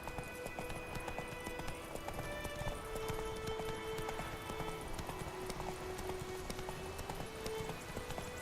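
Roach, a horse in The Witcher 3, gallops steadily with a continuous clip-clop of hooves over a constant game background, with no pauses through the run.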